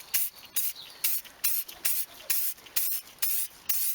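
Simoniz tyre and trim spray hisses out of a trigger bottle in about nine short, regular bursts, close up and crisp, with brief silent gaps between pumps and no talking.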